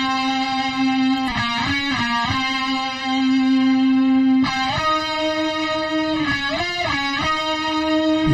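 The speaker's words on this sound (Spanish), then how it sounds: "son dos guitarras haciendo lo mismo" A guitar solo is doubled by two distorted electric guitars playing the same line: loud sustained bends and held notes, dense with harmonics and dry, with no voices.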